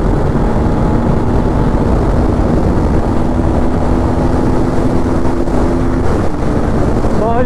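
Pulsar NS200 and BMW RR310 motorcycles riding together, a steady loud engine drone with wind rush throughout, holding a continuous note.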